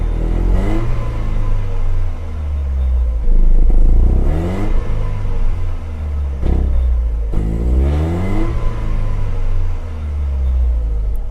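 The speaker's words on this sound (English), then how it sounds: "I'll give you a little rev over here." Mercedes-Benz W202 C180 engine revved while stationary, a low steady idle rising into three distinct throttle blips that climb and fall back, close and fairly loud with no talking.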